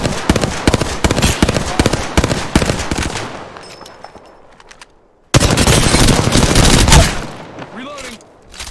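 Loud, rapid automatic gunfire in Apex Legends, dense bursts for the first three seconds, a brief lull, then another sustained heavy volley with game voice callouts mixed in.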